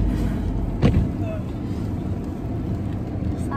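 Steady low road rumble inside a moving car, continuous and moderately loud, with a brief louder thump near the start and faint voices present.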